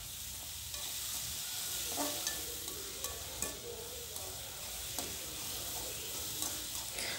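Tomatoes with salt soften in a pan for a country chicken pepper gravy, giving off a soft, continuous sizzle with occasional light stirring clicks, quiet and close, with no voices.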